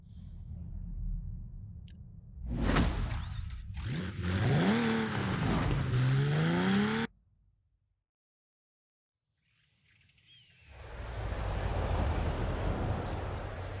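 Jaguar E-Type engine in Forza Horizon 5 racing game, a low idle that swells into loud revving with rising and falling pitch, cuts to brief silence, then returns as a steady engine drone.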